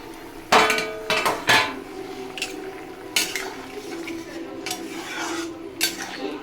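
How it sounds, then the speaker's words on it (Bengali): Lid lifted off a cooking pot while making a shapla and bhola fish dish, several sharp metallic clanks and scrapes up close, followed by lighter taps and clinks over a faint cooking hiss, with no voices. "এবার ঢাকনা খুলে দেখে নেব"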